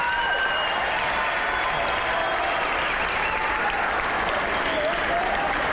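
A gym crowd at a high school basketball doubleheader gives seniors a sustained, loud round of applause, with steady clapping filling the whole stretch and no talking.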